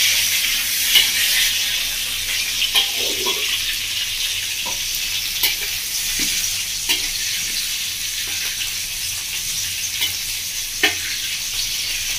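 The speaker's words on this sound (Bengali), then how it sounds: "পেঁপে ভাজা তেলের মধ্যে আলুগুলো ভেজে নেব।" Potatoes fry in oil already used for frying papaya, giving a loud, constant sizzle broken by occasional stirring knocks, with no talking.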